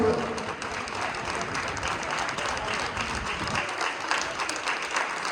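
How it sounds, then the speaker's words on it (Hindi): Steady, dense applause from an audience fills a ceremony hall, a continuous wash of many hands clapping at moderate loudness that holds without a break. "जोरदार तालियों से"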